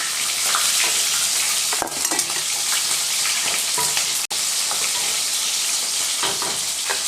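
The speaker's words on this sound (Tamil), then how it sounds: "சின்ன வெங்காயத்தை சேர்த்துட்டு நல்லா வதக்கிடலாம்." Peeled shallots sautéing in a pan for a fish curry, an even, continuous close sizzle with light stirring scrapes and one sharp click midway.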